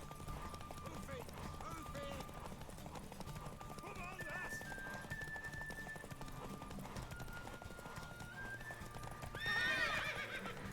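A horse in The Witcher 3: Wild Hunt gallops with faint rapid hoofbeats under game music and ambience, and a high neigh rises briefly near the end.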